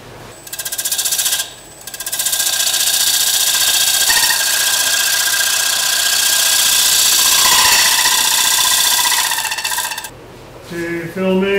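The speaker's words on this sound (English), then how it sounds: "Now I'm going to take my point tool and clean up this area right here." Point tool cutting an ash wood bowl spinning on a lathe, a loud, steady rattling chatter with a high whine that stops briefly, resumes and runs for several seconds before cutting out.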